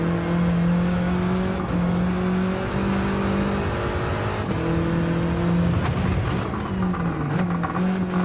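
Engine of a VW Polo in Gran Turismo 7, a steady droning hum with shifting rev tones and gear changes, loud and continuous throughout with no talk over it.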